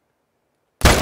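A single sharp rifle shot cracks out suddenly after near silence in a Yukon wolf-hunting video game, loud and close with a full broadband blast.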